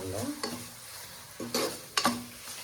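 Masala is sautéed in a pan for a Sunday mutton gravy. A faint sizzle runs beneath several sharp spatula scrapes and clinks spaced through the clip, with brief tonal hum at the start. No one talks.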